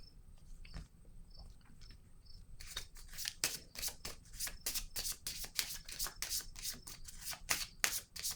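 Tarot cards being shuffled and laid down during a card reading, faint close riffling and flicking that turns into a quick, dense run of rapid card snaps in the second half.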